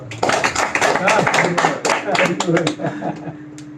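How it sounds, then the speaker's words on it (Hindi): An audience at a Bhagavad Gita lecture claps loudly on cue, bursts of hand claps running for a few seconds with voices mixed in before fading. "जोरदार ताली दो इसको"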